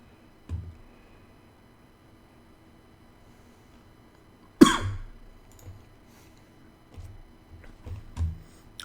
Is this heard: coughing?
yes